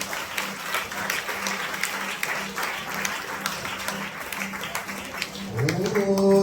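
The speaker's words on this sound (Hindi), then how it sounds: "ताली बजाओ।" A church congregation claps steadily in a sustained burst of applause, dense and continuous, with a low hum underneath and a voice rising near the end.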